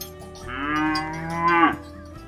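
A cow lows alone in one long, drawn-out moo that swells toward the end, close and fairly loud, with a low, eerie tone suggesting a farm animal calling at night.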